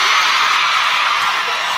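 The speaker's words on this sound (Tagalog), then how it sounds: "Dahil kayo ay sumisigaw ng Duterte" A crowd of Filipino workers in Hong Kong yells and chants the name Duterte, a loud, dense wall of shouting voices that continues steadily without a break.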